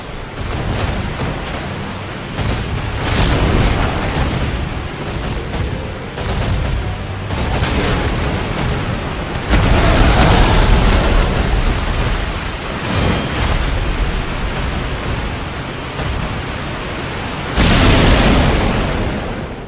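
The Black Dragon Kalameet's breath attack in Dark Souls roars as dense, sustained blasts of fiery noise, loud and close, surging in several long waves with brief lulls between them and no talk.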